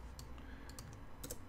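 Quiet keyboard typing while entering an email address into a Django web admin page: a few soft, scattered key clicks over a low steady room hum, with no talking.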